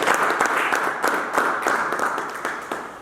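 A church congregation applauds and cheers God, giving dense, continuous clapping that stays loud throughout, with voices mixed into the crowd.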